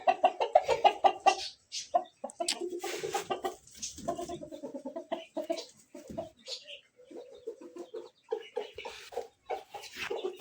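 A rooster clucks close by in quick, uneven bursts in a village, the calls repeating steadily with short pauses between them.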